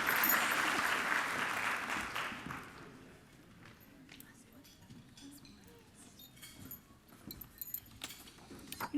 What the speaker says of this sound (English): So we'll give them a big round of applause in good spirit.